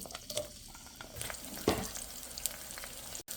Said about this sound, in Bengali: তেলটা গরম গরম হয়েছে এখন পেঁয়াজটা দিয়ে দেবো